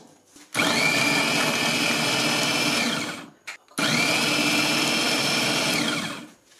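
An Amzchef 300W 900ML multifunction electric chopper running on garlic cloves, two sustained loud whirring bursts of about three seconds each with a short pause between, motor pitch steady and close.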